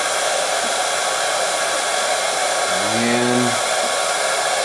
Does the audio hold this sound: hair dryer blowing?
yes